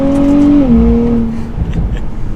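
A 2024 Nissan Z Nismo or Toyota Supra sports car accelerates with a loud, close engine drone that holds a steady pitch, drops sharply as if shifting gear, then settles into a lower rumble.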